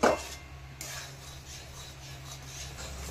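A spoon stirs thickening milk kheer made with powdered milk in a pan, giving a quiet, continuous scraping and rubbing close by, with one louder clink at the start and no talk.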